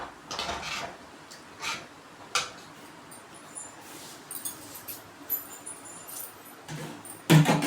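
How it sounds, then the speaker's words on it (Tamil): A ladle stirs chana butter masala with a little added water in a pot, giving soft, intermittent scrapes and light metallic clinks close by, ending in a sharper clatter. "கரண்டி வச்சு நல்லா மிக்ஸ் பண்ணிக்கோங்க"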